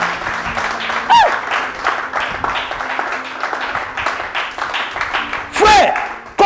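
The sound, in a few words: congregation applauding and cheering for Jesus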